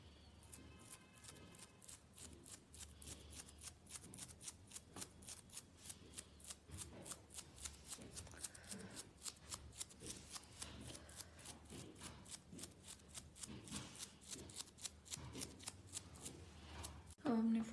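Rapid flicks of paint from an old toothbrush spattering red and other colours onto a sweatshirt, a dense run of soft, close ticking strokes in steady rhythm, faint and continuous, with no talk.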